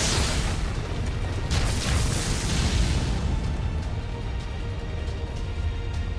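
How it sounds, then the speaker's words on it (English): A massive eruption of soil as the ground splinters and heaves in a Tsukihime battle scene, a loud, sustained rumbling roar with a burst of crashing debris early on that settles into a steady, dense boom. "It's an explosion of soil"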